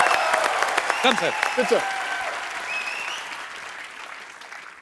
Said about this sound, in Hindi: जोरदार तालियां यार, जोरदार.